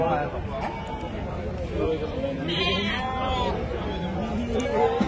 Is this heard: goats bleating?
yes